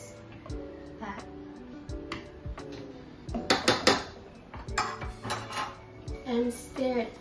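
Pancake dough is stirred in a bowl with a utensil, giving irregular clinks, scrapes and knocks that come and go in short bursts, louder toward the end, with no voices.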